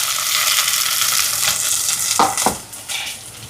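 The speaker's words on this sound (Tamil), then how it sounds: "இப்போ இதெல்லாம் நல்லா வதங்கட்டும்." Ginger, garlic, green chilli and shallots sauté in a hot pan with a steady, close sizzle, broken near the end by a few short stirring scrapes.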